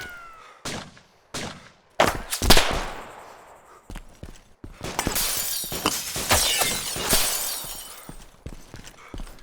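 Gunshots strike the player character in DayZ, a run of sharp loud cracks with shattering, debris-like bursts, then a dense stretch of rapid impacts and crackle.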